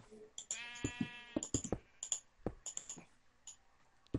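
A sheep in the video game Minecraft lets out a short, wavering bleat close by, surrounded by scattered clicks and taps from gameplay, at a fairly low level.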